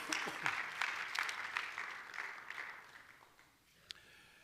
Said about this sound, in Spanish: Démosle palmas al Rey.